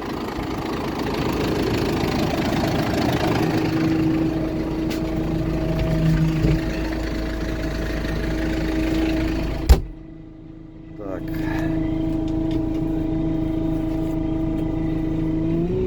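A Lovol P4110 tractor engine idles and runs steadily with a knocking diesel rumble as it drives onto weighing scales, close and loud, then briefly drops away after a sharp bang before the engine note returns.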